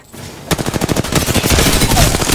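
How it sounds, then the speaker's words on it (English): Rapid automatic gunfire in the battle royale video game Apex Legends, a loud, close, continuous burst of closely spaced shots lasting about two seconds after a brief quiet start. "They're shooting at me."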